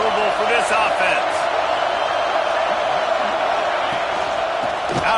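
A college football stadium crowd, Kentucky's home fans, roars as a steady loud wash of noise with scattered whoops and shouts, while a commentator talks over it.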